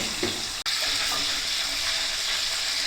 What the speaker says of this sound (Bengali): 30 সেকেন্ড আমি ভেজে নেব, কিন্তু আঁচটা মিডিয়াম রাখবো যাতে খুব বেশি ভাজা না হয়।